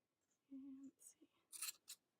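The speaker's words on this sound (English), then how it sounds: "I'm actually going to use larger scissors at this point because this is a little bit easier" Larger scissors snip through tassel threads in a few crisp, close, quiet cuts, mixed with faint handling sounds and brief murmured voice.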